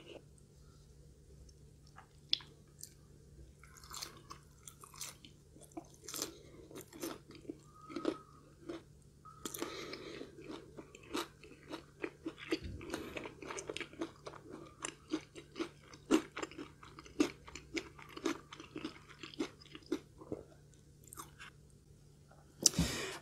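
Crunchy spicy mala fried chicken from Church's Texas Chicken being bitten and chewed up close, with sharp crunches and wet chewing clicks repeating in an irregular rhythm throughout, loud against a quiet background with no talking.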